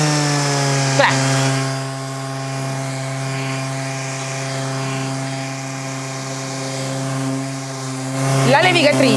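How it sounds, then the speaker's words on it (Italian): An electric sander set to a lower power level works over an old wooden wardrobe with worn 120-grit paper, a loud steady motor whine with strong even tones, close and continuous, with brief clatters at the start and end. "la potenza della levigatrice, mi metto a 4"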